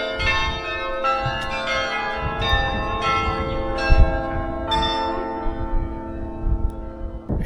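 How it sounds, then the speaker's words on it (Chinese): A church bell rings out beside a canal in a Dutch town at 4:45 in the afternoon, a series of loud, sustained tolls with long ringing overtones, several distinct strikes blending into a resonant hum. "现在时间4点45分，教堂为我们敲响了钟声。"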